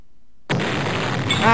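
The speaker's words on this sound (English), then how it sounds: "We have an explosion!" A sudden explosion bursts out in the video game Constructor after a moment of silence, a loud, sharp blast that sustains its roar for about a second.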